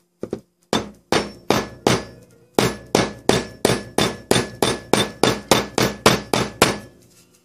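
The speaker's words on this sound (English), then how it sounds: "And then I've got a big hammer, a little big hammer, a little steel hammer." A small steel hammer strikes repeatedly on a pinball machine, about twenty loud metallic blows in a steady, regular rhythm, close and unaccompanied by talk.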